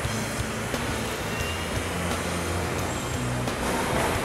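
Street traffic with buses and trams rumbles past in a continuous low mix of engines and road noise, with occasional clunks and hisses and no voices.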